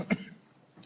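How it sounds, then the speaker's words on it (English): A single person coughs, one short harsh burst followed by a softer throat sound, close and fairly quiet in a lecture setting. "sorry, still coughing."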